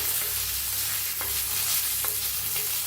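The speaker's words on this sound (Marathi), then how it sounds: "असं तेल घालायचं म्हणजे मस्त भाजताल आपले जिरं आता ह्याला हलवून घेऊया" Cumin seeds fry in oil for a green chilli chutney, a constant close sizzle broken by a few soft rhythmic scrapes of stirring, with no voices.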